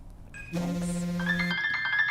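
A mobile phone's ringtone starts up with a bright, melodic electronic chime that shifts pitch partway through, close and clear against a quiet room.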